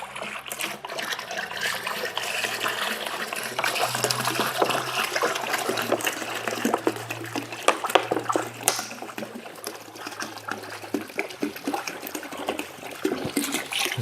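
Green coolant pouring from a one-gallon jug into a car's cooling system after a thermostat replacement, a continuous gurgling trickle and glug of liquid running steadily for several seconds, close up, with no talking.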